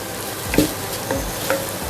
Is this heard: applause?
no